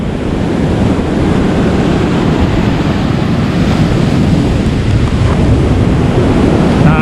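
Ocean surf crashes continuously at a hidden beach in Aruba's national park, a loud, broad roar of breaking waves with wind buffeting the microphone and no voices.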